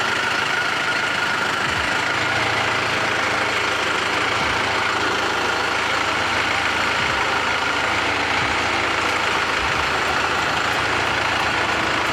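A compound-turbo 4BT Cummins diesel swapped into a GMC square-body truck drives along the road, its steady engine drone and rumble continuous throughout with road noise and no talking.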